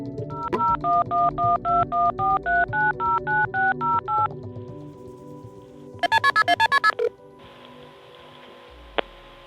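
A rapid sequence of telephone keypad tones beeps out a phone number, followed by a quicker burst of higher tones, then a hiss and a click.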